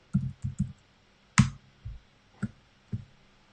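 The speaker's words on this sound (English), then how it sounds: "even though my typing is bad" Slow, uneven typing on a computer keyboard, with sparse individual keystrokes and small clusters of clicks, close and fairly quiet, with no speech.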